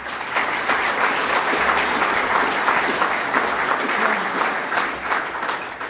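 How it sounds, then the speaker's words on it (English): Steady audience applause fills a hall at a Melbourne panel event on sustainable green cities, a dense even wash of clapping lasting throughout without pause. "So just give them a round of applause."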